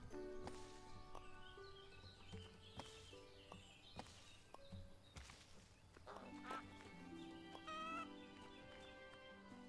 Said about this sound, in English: More geese, which we don't like.